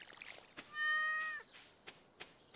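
A cat in the Stardew Valley video game gives one clear, drawn-out meow, surrounded by sparse soft game clicks and taps, with no talking.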